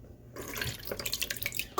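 Liquid for homemade yogurt poured into a bowl, a close, splashy trickle with bright bubbling gurgles that builds after a brief quiet start, no speech.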